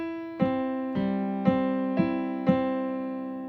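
A piano plays a slow chord pattern from a song: five evenly spaced struck chords, each left to ring out, close and clear with no voice over them.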